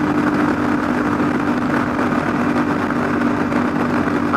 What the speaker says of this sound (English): I'm getting a lot of wind right here. A lot coming through.